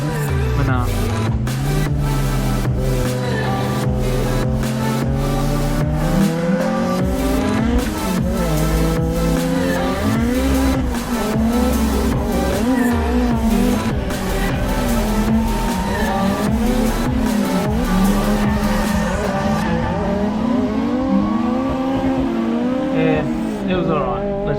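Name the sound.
car drifting lap with tire squeal in Assetto Corsa video game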